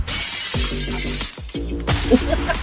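Glass shatters repeatedly as a sound effect, several sharp crashes and tinkling fragments in quick succession, loud and close with no talk.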